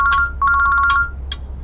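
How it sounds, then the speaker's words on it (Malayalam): A mobile phone ringtone for an incoming call plays alone, loud and close: a short electronic melody of bright repeating tones that pauses briefly before running on for about a second. "മീന ഈ സമയത്ത് ഫോൺ ചെയ്യുന്നല്ലോ."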